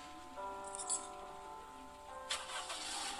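A Samand police car in a video game starts up: a mechanical click, then the engine catches with a cranking whir and settles into a faint idle, ending with a brief bright rattle.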